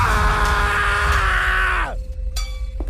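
A man lets out a loud, sustained scream for a horror story, a strained cry that holds steady for about two seconds then cuts off sharply, leaving a faint ringing tail.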